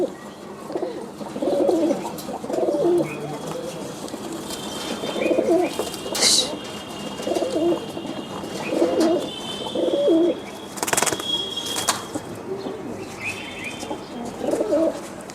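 Pigeons at a pigeon farm coo steadily in repeated soft, close phrases at an even rhythm, with occasional chirps and a brief flutter of wings.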